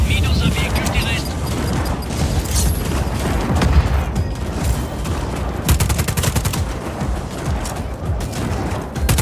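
Dense bursts of gunfire and explosions crackle through a Just Cause 4 firefight, rapid shots layered under constant loud action noise while voices talk over it.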